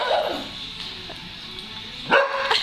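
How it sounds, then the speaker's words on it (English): Dogs bark and yip a few times in short bursts, fairly close, over a low background hum. "now you're just barking at each other."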